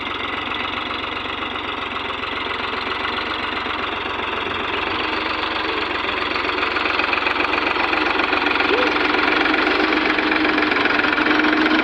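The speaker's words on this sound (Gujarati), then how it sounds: "ટ્રેક્ટર ચાલુ થાય" A tractor engine runs steadily and loudly throughout, a dense rumbling chug that holds constant with a slight rise toward the end.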